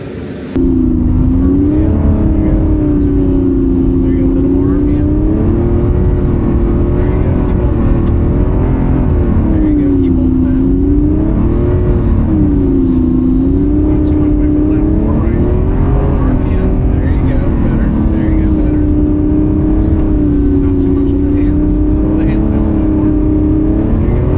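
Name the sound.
Lamborghini Revuelto doing donuts on ice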